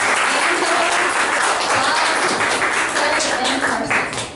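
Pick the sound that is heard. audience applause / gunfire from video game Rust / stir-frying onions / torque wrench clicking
audience applause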